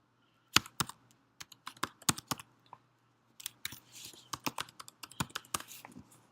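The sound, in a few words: typing a password on a computer keyboard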